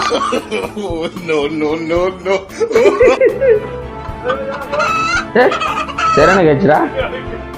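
Loud, repeated clucking and excited squawks from a chicken, close by, in rapid uneven bursts.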